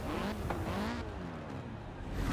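An Audi TT in the driving game Forza Horizon 4 sets off with a steady, close engine drone whose pitch climbs as it accelerates, tyre and road noise underneath throughout.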